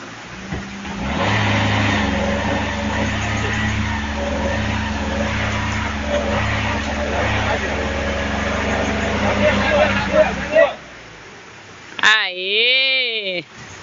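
A Duster 4x4 crawls down a steep dirt bank with a steady droning engine, then a short rising whine near the end; people talk over it.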